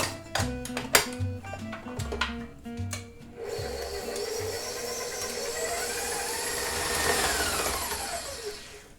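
An electric mixer creams softened butter with two kinds of sugar for gluten-free sugar cookie dough, a steady whirring drone that runs close and continuous after a few brief clunks and knocks at the start.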